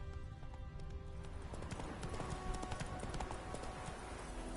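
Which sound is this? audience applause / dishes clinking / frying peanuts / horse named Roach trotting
horse named Roach trotting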